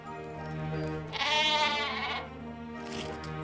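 Sheep bleating in the video game The Book of Unwritten Tales 2, a couple of wavering bleats standing out over a steady background hum, close and clear with no talking.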